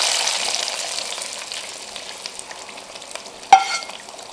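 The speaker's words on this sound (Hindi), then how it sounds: "ये देखिए ये तड़का अब हम इस पर डाल देंगे।" Hot oil tadka with coriander and mint sizzles steadily as it is poured over mutton koftas, a bright hissing crackle that fades gradually, then a sharp clatter near the end.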